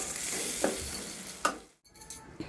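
Tomato and peanut chutney mixture frying in a pan as the stove is switched off, with a soft residual sizzle and occasional stirring knocks that fade away near the end.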